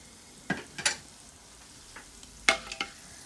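Whole star anise, green cardamom, cloves, black pepper and bay leaf fry in hot oil over full flame, giving a few short sizzling bursts and stirring scrapes against a quiet background. No one speaks.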